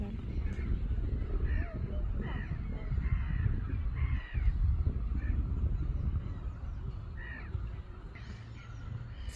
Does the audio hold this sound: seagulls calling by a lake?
yes